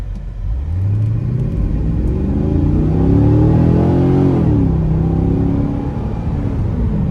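A 2008 Corvette Convertible 3LT Z51 accelerates hard from a launch, its engine rumble climbing through rising revs, loud and close from inside the cabin.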